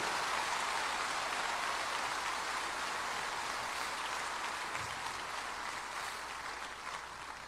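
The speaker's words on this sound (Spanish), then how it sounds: "dele ese aplauso con gozo" A church congregation claps steadily in a dense, even wash of applause that holds for several seconds and slowly fades slightly, with no voices standing out.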